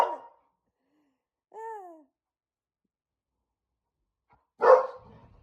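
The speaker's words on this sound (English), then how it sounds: "He's a talkative dog." A dog gives a short bark, then a drawn-out whining yowl, and after a pause a louder sharp bark, each sound separated by silence and heard close by.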